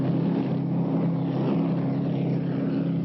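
An offshore racing powerboat in the 1979 Cowes–Torquay–Cowes race, running on its one remaining engine, gives a steady, heavy droning hum with a low throbbing tone, constant and unbroken, with no voices.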